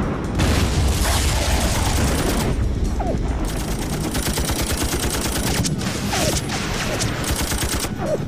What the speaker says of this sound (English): The missiles are killing them.